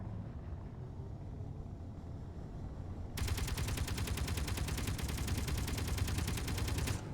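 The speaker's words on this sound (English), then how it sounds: "Stop shooting." Automated turrets in a video game open up suddenly partway through, a fast, steady, machine-like rattle of rapid shots that carries on unbroken over a low background rumble.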